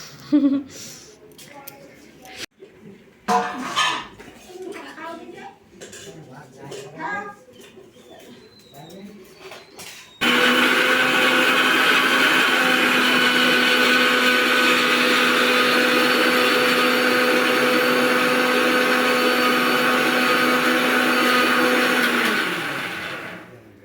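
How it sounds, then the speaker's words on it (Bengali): About ten seconds of talk and bird coos give way to an electric mixer grinder whirring at full speed as it blends spices for a duck meat curry. The loud, steady drone runs about thirteen seconds and then winds down. "আমি এখন মিক্সিতে মশলাটা করব"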